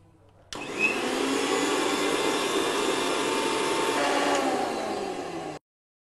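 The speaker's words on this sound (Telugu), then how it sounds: "మిక్సీ బౌల్లోకి తీసుకొని మిక్సీ చేసుకొని పక్కన పెట్టేసుకోవాలి." A kitchen mixer grinder whirs steadily for about five seconds, grinding roasted spices and coconut, a loud, even motor drone that starts abruptly and cuts off sharply, with no voices.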